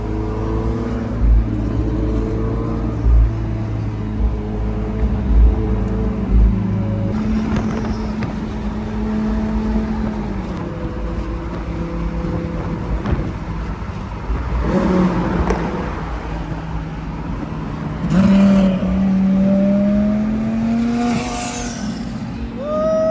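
A straight-piped McLaren 720S drives along with a deep, continuous engine drone heard from inside, swelling into louder revs and a few crackling exhaust pops and burbles as it accelerates.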